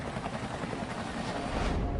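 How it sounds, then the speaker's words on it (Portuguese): Helicopter evacuating the last Americans from Vietnam, a steady broadband rotor and engine roar that holds even and close throughout, swelling slightly toward the end. "os últimos americanos que permaneciam no Vietnã são levados de helicóptero para um local seguro"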